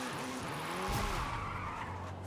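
An MG6 XPower drifts in Forza Horizon 5, its tires squealing and skidding continuously over a steady engine drone for a couple of seconds, loud and close.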